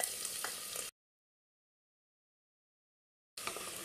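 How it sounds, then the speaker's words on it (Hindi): Garlic dropped into hot oil with cumin in a frying pan while making misal pav gives a close, steady sizzle, which cuts out to silence midway and then resumes. "अब मैं डाल रही हूँ लहसुन"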